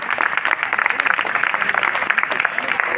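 A school farewell crowd for a 12th-class batch breaks into dense, rapid clapping that fills the short stretch, with a voice audible over it.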